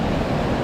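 Strong ocean waves surge steadily in a dense, continuous roar on a rainy day, close and loud with no break for the full moment and no voices.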